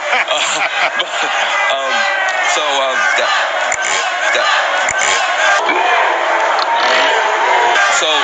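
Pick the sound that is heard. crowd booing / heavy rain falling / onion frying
crowd booing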